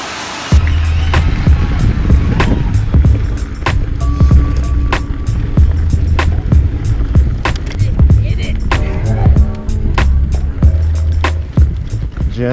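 A Santa Cruz Bronson mountain bike rolls over a rough trail near Mt. Rainier, with loud, constant rattling and regular sharp clanks from the frame and chain, plus wind rumble and brief voices.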